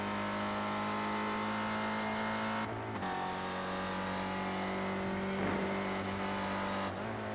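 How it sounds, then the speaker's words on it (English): Race car engine in a sim racing game on an oval track, a loud steady drone with harmonic bands that breaks off abruptly twice as the throttle is lifted, with no talking. "But listen to the throttle heading onto the oval."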